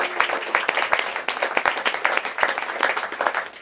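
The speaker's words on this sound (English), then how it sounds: "Let's give Colin a big hand." Audience applause at a book launch: a steady, dense patter of many hands clapping together, sustained at even loudness for a few seconds with no talk over it.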